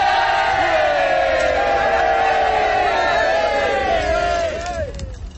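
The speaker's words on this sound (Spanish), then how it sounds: "Una ovación." A crowd of soldiers roars an ovation in a war film set in the trenches, with sustained, loud massed shouting and cheering that holds steady, then thins and fades near the end.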